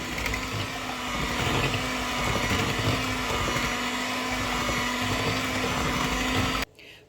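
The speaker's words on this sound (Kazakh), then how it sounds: "Секер ерігенше жақсылап ертіп аламыз." Egg and sugar being beaten for soft homemade waffle batter with an electric mixer, a steady loud whirring drone with a constant hum that runs unbroken for most of the clip, then cuts off abruptly near the end.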